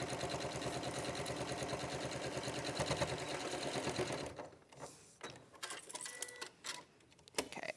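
Sewing machine base stitching a bag seam, a fast, even mechanical chatter of rapid needle strokes for about four seconds, then it stops and soft handling clicks and rustles follow.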